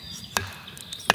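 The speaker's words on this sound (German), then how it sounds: "Jetzt drehen wir es mal um und klopfen von oben drauf." A sturdy Otto Bulletproof knife lodged in a piece of wood is struck from above to baton it through. Two sharp, close knocks land about three-quarters of a second apart, with nothing else heard.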